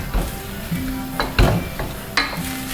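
Chicken and mushrooms sizzle in a wok pan while a utensil stirs and scrapes through them, a steady close frying hiss broken by a few sharp clacks against the pan.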